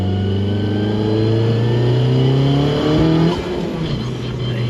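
A tuned 460 bhp Mk1 Audi TT quattro accelerating hard, its loud close engine note climbing steadily in pitch before a brief break and drop around a gear change, then pulling again.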